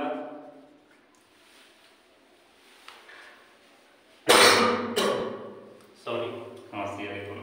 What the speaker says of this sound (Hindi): सॉरी खांसी है देखो।